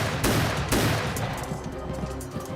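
Gunfire from attacking pirates boarding a ship in an animated adventure battle, several loud close shots cracking out in quick succession, then a dense rattling volley that keeps going.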